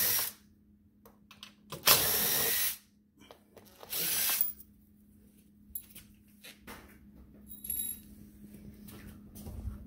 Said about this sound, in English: put the T40 back in and finish removing these two screws